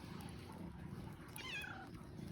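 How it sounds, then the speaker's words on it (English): A single cat meows once near the middle, a short rising-falling call at moderate level over steady low household background noise. "that's our other cat, Loki"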